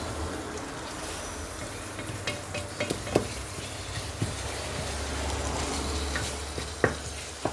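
Tomato concentrate for a bolognese sauce cooks in a pan with a steady close sizzle, broken by scraping stirs and occasional sharp utensil knocks against the pan.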